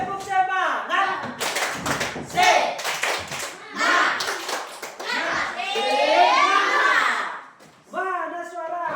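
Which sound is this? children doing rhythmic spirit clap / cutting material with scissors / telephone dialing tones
children doing rhythmic spirit clap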